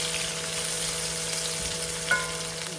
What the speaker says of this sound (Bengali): শুকনো মরিচটা আমার হালকা একটু ভাজা হওয়ার পর আমি পেঁয়াজটা দিয়ে দিচ্ছি